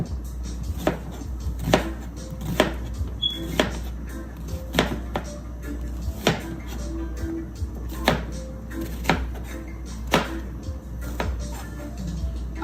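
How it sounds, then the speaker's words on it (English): Knife chopping spinach on a cutting board in a home kitchen: sharp, evenly spaced cuts about once a second, close and fairly quiet, with a faint low background hum. "I'm just cutting up some spinach."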